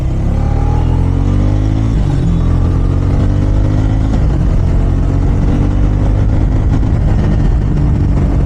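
A motorcycle engine with traction control switched off roars loudly and steadily, its revs climbing and falling in sweeping pitch changes, close up, with no speech.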